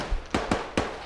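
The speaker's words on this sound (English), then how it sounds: "We're taking grenades." Grenades go off in the ArmA 3 video game as a rapid string of three or four sharp, close blasts packed into about a second. Each crack decays quickly, and no one speaks over them.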